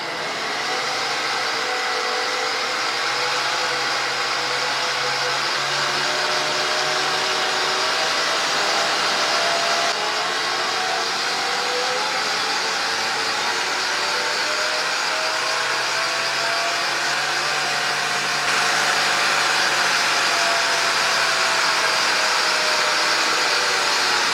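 An engine runs steadily as its throttle plate is slowly opened and closed, with a continuous whirring drone whose pitch gradually rises and falls across the span; no one speaks.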